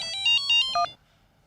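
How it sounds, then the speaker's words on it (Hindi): A mobile phone ringtone plays three short melodic bursts, clear and fairly close, then cuts off into near silence. "किडनैपर का फोन।"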